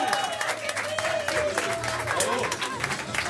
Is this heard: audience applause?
yes